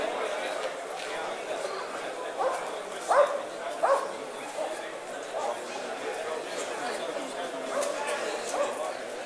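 Police dog barking during a smuggling search training exercise: a few sharp barks cluster near the middle, with fainter yips around them, over a steady murmur of background noise and voices.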